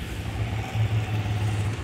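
Modenas ZGT motorcycle engine with a suspected connecting-rod fault, at about 2772 mileage, being started and running with a steady low rumble and a faint recurring knock, loud and close with no talk.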